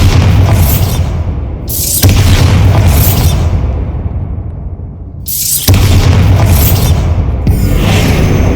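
Repeated Bombarda spell blasts from Hogwarts Legacy on Xbox Series S: loud, close, booming explosions in quick succession, each bursting out with a heavy low rumble and a hissing tail that decays before the next blast hits.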